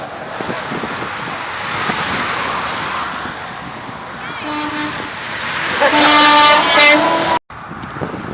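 Truck horn honking on a roadside with heavy wind noise, a loud sustained blare followed by a couple of shorter toots, rising out of constant rushing wind and passing traffic.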